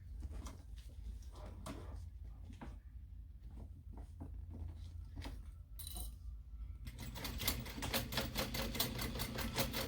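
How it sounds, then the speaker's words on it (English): A sewing machine top-stitches across the top of a small handmade mini backpack, starting with scattered clicks and handling noises and then settling into a steady, close, rapid stitching run over the last few seconds. "we're going to top stitch across the top"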